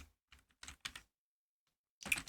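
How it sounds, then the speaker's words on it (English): Bursts of computer keyboard typing in a few short clusters of keystrokes, close and fairly quiet, with pauses between them and a louder flurry at the end; no voices. "Oh look, I am typing"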